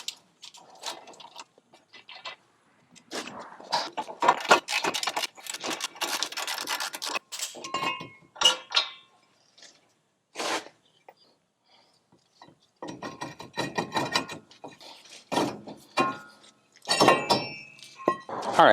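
Metal parts clink, thunk and scrape as a brake caliper bracket and rotor are pulled off a car's wheel hub, in irregular close bursts of clanking and rubbing separated by quiet pauses, with no talking.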